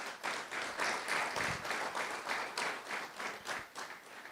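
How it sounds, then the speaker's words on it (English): A room at a town hall meeting in Edmonton bursts into a round of applause for volunteers, with sustained clapping from many hands that swells and fades over several seconds, heard from a distance. "please give them a warm round of applause"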